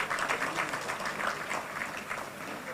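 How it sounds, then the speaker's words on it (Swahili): A crowd at a political meeting claps together in a sustained, fairly loud burst of dense applause, even and unbroken with no voices over it. "Hii umetusaidia, simpigie makofi."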